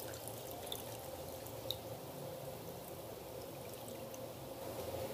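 Homemade juice pours into a brown sugar cola drink, a soft, steady trickle of liquid with faint drips, close and quiet, with no talking.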